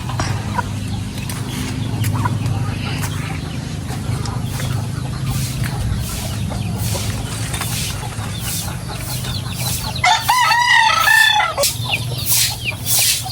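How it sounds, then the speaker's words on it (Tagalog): Chickens cluck steadily against a low rumbling background, then a rooster crows loudly near the end. "Ang mga manok."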